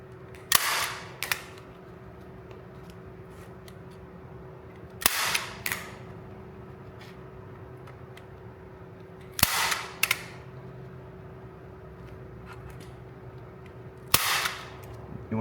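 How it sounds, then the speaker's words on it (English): A staple gun fires staples into canvas stretched over a wooden stretcher frame, four sharp, loud snaps spaced roughly four to five seconds apart against a quiet background hum. "And then I'll work my staples up, pulling and stapling all the way to that corner."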